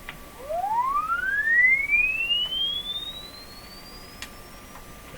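An audio frequency sweep tone played through a Canadian Westinghouse Model 512 tube radio rises smoothly from low to high pitch over a few seconds as a pure whistle, fading near the top against faint background hiss.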